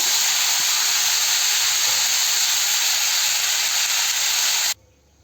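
Cauliflower dropped into hot oil in a pan, giving a loud, steady, close sizzling hiss that holds for several seconds and then cuts off abruptly, with no talk.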